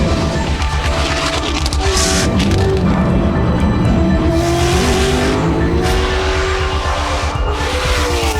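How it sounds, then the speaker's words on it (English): A Brabham BT62 race car lapping the Bathurst circuit, its engine roaring loud and close with rising and falling revs through gear changes, tire squeal and skidding mixed in, continuous throughout. "about to go out for our first run in the Brabham BT62"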